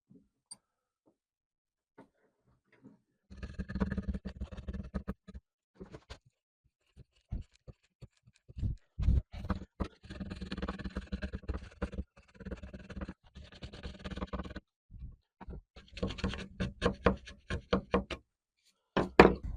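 A chisel pares wood from a guitar neck in a series of close, sharp knocks and scraping cuts, coming in irregular bursts separated by short pauses.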